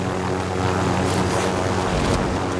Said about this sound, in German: Ich lande die Heli hier hinten.